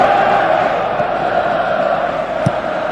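Football stadium crowd at an Indonesia national team match, a steady loud roar filling the whole clip with a brief louder burst near the end.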